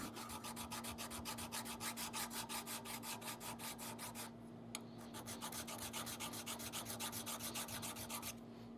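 Steady rhythmic rasping strokes of a hand file with a new handle working a hammer head cast from melted pennies, repeating evenly with a brief pause midway, over a constant low hum.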